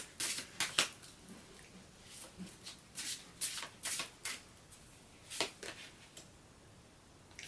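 Numerology cards being shuffled for a card reading, a run of quick, crisp riffling bursts and soft slaps coming in uneven clusters, close and fairly quiet.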